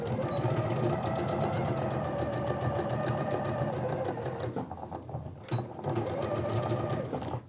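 A sewing machine runs steadily, stitching a 1.5 cm seam on a simple four-panel elastic-waist skirt, its needle chatter continuous and close, pausing briefly near the end before resuming.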